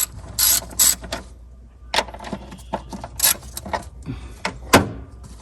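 Ratchet clicking as 10mm acorn nuts are loosened from a car's power steering pump, with several quick bursts of metallic pawl clicks and clanks of tools, close and clear.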